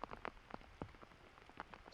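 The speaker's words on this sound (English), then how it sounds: "We can see the rain hitting the lens of the camera." Raindrops tap irregularly on a camera lens outdoors at a disc golf course, making faint, close patters and soft ticks in a quiet setting.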